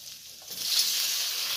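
Macaroni pasta is stirred in a hot pan, with a soft hissing sizzle that rises after a quiet start and then holds steady and close.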